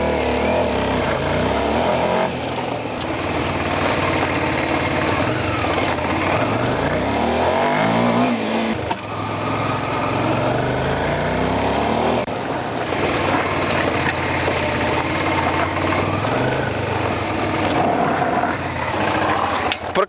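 A Suzuki SV400S motorcycle engine runs and revs through the gears on a road ride, its pitch climbing, dipping at each shift and climbing again, loud and close.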